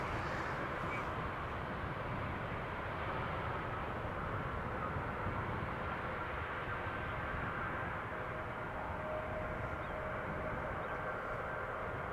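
A KLM Cityhopper Embraer jet vacating the runway at Amsterdam Schiphol Airport gives off a distant, steady low engine rumble that holds evenly throughout, faint and with no voices.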